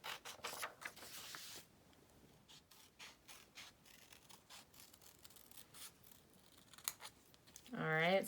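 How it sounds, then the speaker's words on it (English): Scissors snip through paper while a tulip shape is cut out: a run of short, crisp, close-up cuts with quiet gaps between them, and a voice briefly speaks at the end. "I cut out my tulip, and then after I'm going to cut out the leaf"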